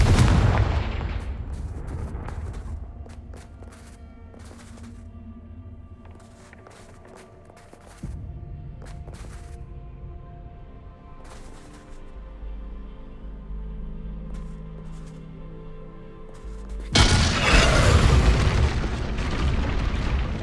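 A Confringo spell explosion in the Hogwarts Legacy video game, with a heavy booming blast at the start, then lower rumbling game sounds and a second loud burst near the end, with no talking.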